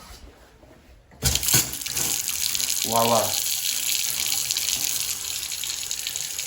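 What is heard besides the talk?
hot water running from a tap after boiler installation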